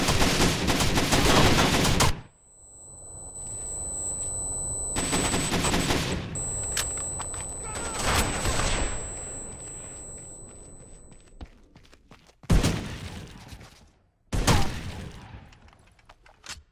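Gunfire in the video game Rainbow Six Vegas 2: loud sustained machine-gun bursts that cut off abruptly, separated by quieter stretches of distant shots and ambience, with no talking.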